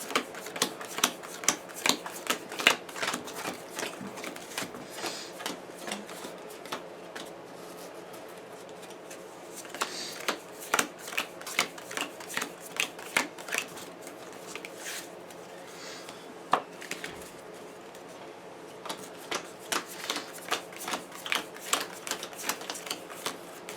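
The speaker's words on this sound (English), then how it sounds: "we're just showing you that we're shuffling it" Game cards for the Pathfinder Adventure Card Game being shuffled again and again, a long run of crisp, rapid riffling bursts with short gaps between them, fairly close and with no talking.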